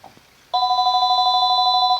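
A telephone rings indoors: after a moment of quiet a single, loud, continuous electronic ring with a fast warble sounds for about a second and a half, alone, with no voices.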